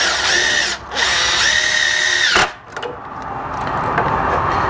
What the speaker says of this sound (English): And just go ahead and pre-drill the screws.